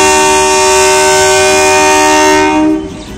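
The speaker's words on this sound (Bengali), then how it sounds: "ওই ট্রেনটা বেরোচ্ছে" A train pulls out of a crossing station on the Pangsha to Rajbari line in Bangladesh, its loud, close horn sounding as one long, steady blast over rumbling wheels, then cutting off and fading near the end.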